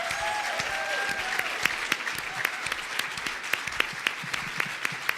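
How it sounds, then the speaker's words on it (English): Sustained applause from an audience at a political candidates' forum, with a dense steady wash of many hands and a few sharper individual claps standing out, continuous throughout. "we should give a very big round of applause to our earlier candidate"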